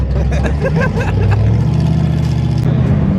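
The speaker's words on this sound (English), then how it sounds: "Why does my GTR sound like that?" A Nissan GT-R engine idles and revs in a parking lot, a loud, steady low rumble with a few sharper rev swells running throughout, close by.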